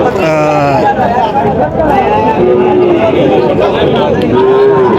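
Cattle moo repeatedly at Garo Bazar, a busy cattle market where young heifers are sold. Long, loud, near calls rise over constant crowd chatter and a talking voice.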